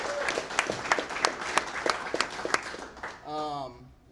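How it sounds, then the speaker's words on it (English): Scattered applause for Ryan from a small church gathering, a loose series of distinct claps, followed by a short spoken voice. "let's give Ryan a round of applause"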